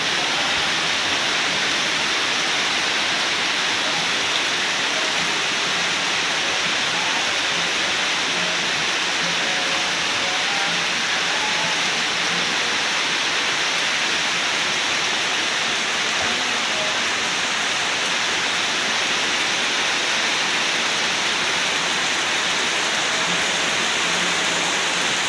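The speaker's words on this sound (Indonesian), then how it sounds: "ini pada siang hari ya, diguyur hujan lebat" Heavy daytime rain pouring steadily over a village in Suka Maju, Simeulue, Aceh, a dense, unbroken hiss of downpour at constant loudness with no voices.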